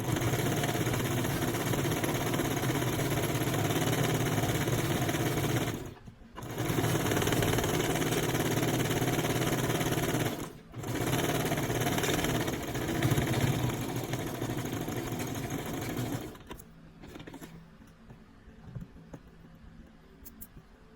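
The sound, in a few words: Brother sewing machine stitching a fabric beanie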